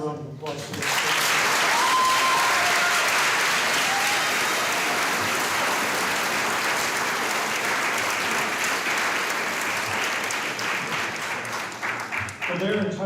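Loud, sustained applause fills a school graduation ceremony as teachers are honoured, a thick wall of clapping from a large crowd lasting over ten seconds, with a voice briefly heard at the edges.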